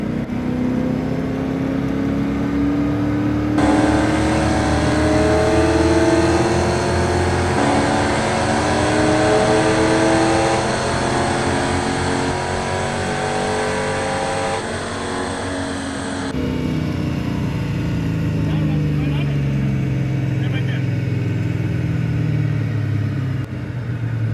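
A car engine at a race track revs loudly and close, its pitch climbing and falling through sustained rises, then dropping to a lower idle rumble near the end.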